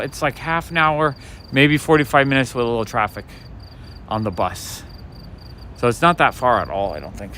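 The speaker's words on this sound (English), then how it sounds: "But somewhere in there's a cricket chirping." A cricket on a late-night Brooklyn street in Williamsburg chirps in a steady, repeating high trill beneath a man's close, continuous conversation.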